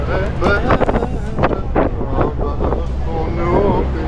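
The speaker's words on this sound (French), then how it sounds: "Désolé s'il y a du vent" Strong wind buffeting the microphone on a boat at sea off the Santorini volcano, a steady loud rumbling roar with gusty bumps throughout and what may be a voice buried underneath.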